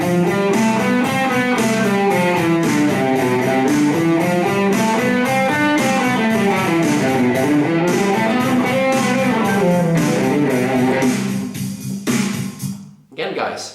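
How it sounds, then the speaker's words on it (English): An electric guitar plays a B Locrian mode line over a C backing track, with continuous melodic runs and sustained notes above the accompaniment, loud and steady before fading out at the end. "So here's a B Locrian over that C track."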